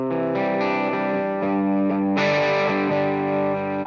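An electric guitar plays through a 3rd Power Kitchen Sink amp on its JMP side with gain fully up and boost on, giving loud, saturated distorted chords that ring out, shift and sustain with no talk.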